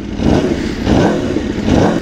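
A motorcycle fitted with a full aftermarket exhaust revs in repeated throaty swells, loud and close, with a rough rumbling rasp and no talking.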